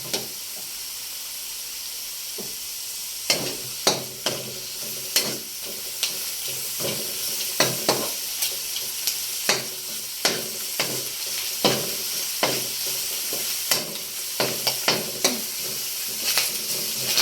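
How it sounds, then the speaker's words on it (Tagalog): Pork and cabbage sauté in a hot pan with a constant sizzling hiss, punctuated by regular sharp clacks of a utensil stirring against the metal, close and fairly loud. "Igigisa."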